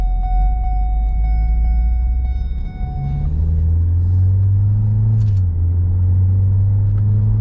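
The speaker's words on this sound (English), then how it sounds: "I believe that is the reason why this car is making so much noise, as you can see here." A 2014 Ford Escape AWD with the 1.6L EcoBoost and a worn power transfer unit gives off a loud, steady low drone while driving. A thin whine sits on top for the first few seconds.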